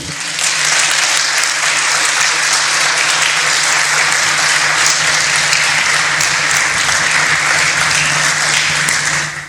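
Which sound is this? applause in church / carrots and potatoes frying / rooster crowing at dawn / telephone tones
applause in church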